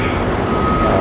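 A train rumbles past close by in Forest Hills, a loud steady roar of rail cars over a one-second stretch with a faint high tone running through it.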